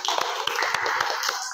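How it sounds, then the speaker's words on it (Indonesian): Students in a physics classroom applaud a presenting group: a short burst of dense, many-handed clapping with scattered sharper claps, fairly close and steady throughout. "Oke, beri tepuk tangan."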